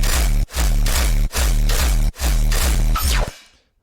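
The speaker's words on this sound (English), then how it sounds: "that's super blown out bass with the supporting layers" Blown-out dubstep synth bass, layered with supporting sounds and run through a ring modulator, plays in four loud, heavily distorted sustained bursts separated by brief gaps, with the last one cutting off into silence.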